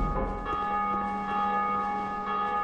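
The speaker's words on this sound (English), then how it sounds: "Ring the bell!" A large bell tolls in the video game Dark Souls 2, a sustained ringing tone with long humming overtones that fill the clip, steady and moderately loud, with no voices.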